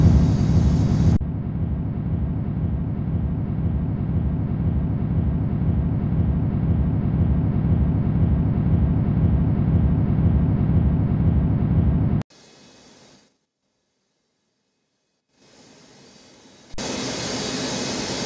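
Jet airliners at Newark airport during snow operations: a long, loud, steady roar of engines spooling for takeoff, then abrupt cuts to near silence and a return of broadband jet noise.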